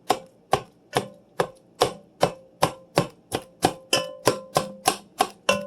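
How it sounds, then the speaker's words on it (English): Cooked potatoes being mashed with a masher in a Dutch oven, heard as a steady run of about fourteen firm, evenly spaced thuds, close and loud, each with a short wet squish. "I'm just going to mash these potatoes"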